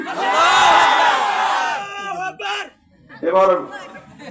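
A large gathered crowd at a religious sermon roars a loud, sustained collective shout, then gives a couple of shorter bursts of shouting.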